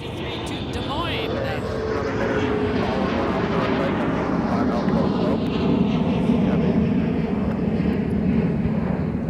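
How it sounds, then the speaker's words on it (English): Endeavour Air jet rotating off runway 30 left at MSP airport, a loud steady engine roar with rising, sweeping tones as it climbs, heard over ongoing speech. "Just rotating off of runway 30 left is Endeavour Air Flight 5253 to Des Moines."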